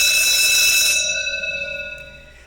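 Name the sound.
homemade transistor alarm sounding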